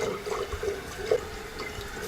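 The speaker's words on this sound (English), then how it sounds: "it keeps running and the water keeps overflowing the fill tube" Faulty toilet fill valve running continuously as water overflows the fill tube, a faint steady trickle and hiss of water with a small gurgle partway through, no voices.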